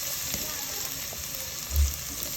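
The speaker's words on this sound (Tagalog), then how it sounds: "ginisa ko na nga pala muna ang luya at sibuyas at bawang" Ginger, onion and garlic sautéing in a pan for chicken tinola, a steady low sizzle with a brief soft thump near the end, no speech heard.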